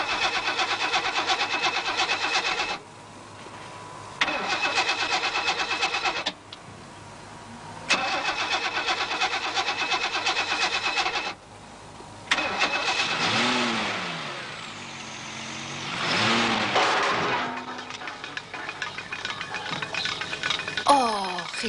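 In a radio drama, a car engine is cranked repeatedly with the starter grinding in long bursts and stopping between attempts, until it finally catches and revs. The engine sound stands alone throughout.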